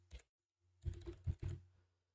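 A computer keyboard gives a short tap, then after a pause a quick cluster of soft key clicks, close and faint with a low background hum.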